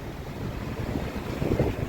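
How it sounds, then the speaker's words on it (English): Wind buffets outdoors on a breezy day in Malaga, Spain, a steady low rushing gust noise across the microphone with no voices. "It's a little bit windy."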